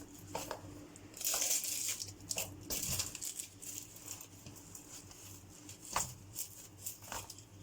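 Quiet crisp crackles and crunches as a knife cuts through thin, flaky Bosnian börek pastry, with scattered crinkly bursts and a few sharper snaps.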